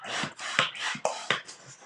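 Hand pump inflating a 350Q balloon, six quick rhythmic puffs of air, each a breathy whoosh with a soft thump, close and moderately quiet.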